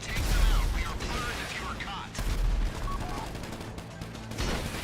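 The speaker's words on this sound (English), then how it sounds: "I missed with that missile." Explosive weapon fire from an RPG in the video game Payday 3, with a loud boom followed by rumbling blasts and gunfire-like bursts, a second heavy blast near the middle, all layered under busy game noise.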